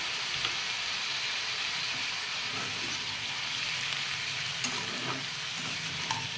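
Vegetables with salt, turmeric and a little water fry in a pan while being stirred, a steady close sizzle with occasional scrapes and clicks of the spoon throughout.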